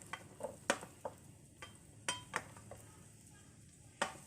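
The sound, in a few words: onions stir-frying in pan on high flame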